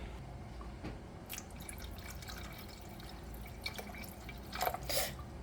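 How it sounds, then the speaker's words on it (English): Water pours and drips into a cooking pot with a steady liquid wash. A few louder splashes come near the end, and no one speaks. "So this how inside the pot looks, and I'm adding the water."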